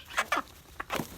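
A chicken, an Americana and Black Beauty mix, clucking close by: four quick, sharp clucks in two pairs with no talk.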